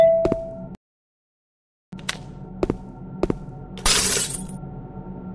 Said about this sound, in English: A crowbar. I should be able to break the glass now.